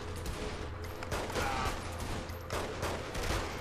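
Rapid gunfire in the video game Saints Row 3, with repeated sharp shots and bursts in quick succession, steady and moderately loud throughout the short stretch.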